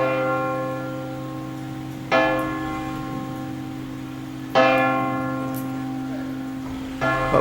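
Church bells in Mellieha, Malta, ringing in slow, evenly spaced strikes, each clang ringing out and fading before the next, moderately loud over a faint background hum.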